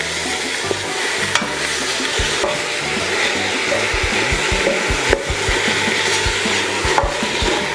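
Two pounds of ground beef browns and sizzles in a pan, a steady frying hiss punctuated by repeated scraping stirs and occasional wooden knocks, close and fairly loud with no talking.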